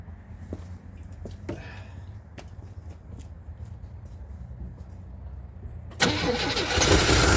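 Faint clicks and rustling, then a Checker Marathon car engine cranks and catches abruptly near the end, revving up into a close, loud running rumble.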